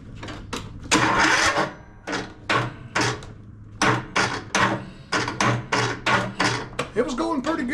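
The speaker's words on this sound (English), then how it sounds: "I just want to see if the engine will turn now." A 17hp Kohler Courage engine on a Troy-Bilt Bronco riding mower cranks over in a series of short, loud bursts of starter churning separated by brief pauses, with a voice near the end.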